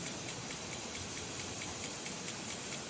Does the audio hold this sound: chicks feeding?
no